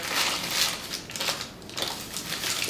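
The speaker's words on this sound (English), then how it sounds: "I'm going to take my parchment, crumple it all up" Parchment paper crumpled up by hand to line a pie crust before blind baking, a loud close crackling and crinkling that comes in irregular bursts and rustles with no voices over it.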